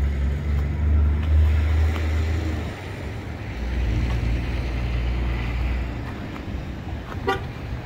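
A Chevy or GMC vehicle locks its own doors automatically, giving a brief horn chirp near the end after a stretch of low steady rumble and outdoor wind-like noise.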